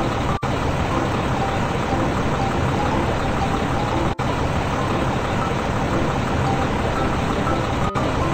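A rescue truck drives along in the Baby Panda animal-care mobile game, its steady engine and road rumble holding a continuous, fairly loud level broken by a few tiny gaps.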